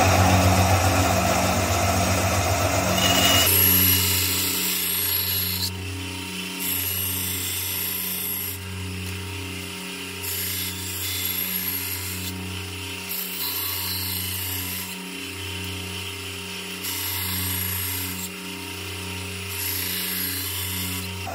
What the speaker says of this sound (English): So let's take it over to the bandsaw now,